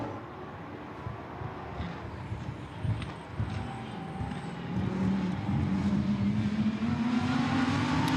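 Lamborghini Super Trofeo race cars accelerate out of a chicane during a 2019 Nürburgring race. Engine notes rise steadily in pitch and grow louder over a rumbling, crowded background.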